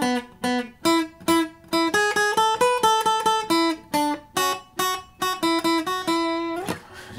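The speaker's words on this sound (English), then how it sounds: "And then the super famous riff sounds like this." A famous riff rings out on a single acoustic guitar, a quick run of plucked melody notes in a bouncy rhythm with brief pauses between phrases, played close and clear without any voices.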